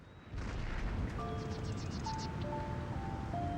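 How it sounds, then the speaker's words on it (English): Cannon fire with flaming shot in Total War: Empire, a sustained loud rumbling roar of artillery under a steady battle din, with faint tonal game music notes layered on top. "Look at that cannon fire go."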